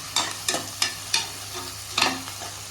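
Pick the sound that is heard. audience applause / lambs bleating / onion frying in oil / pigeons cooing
onion frying in oil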